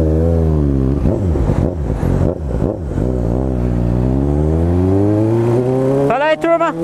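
A Suzuki GSR750 motorcycle engine revs and pulls through gears while riding, loud and close, with rising and falling pitch sweeps and a sharp upshift near the end.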